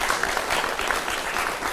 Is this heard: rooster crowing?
no